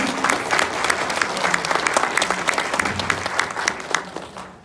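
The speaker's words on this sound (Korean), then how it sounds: "큰 박수 부탁드립니다." Loud, sustained applause from a crowd at a political party's new-member education meeting, dense clapping filling the room without a break before tapering off at the very end.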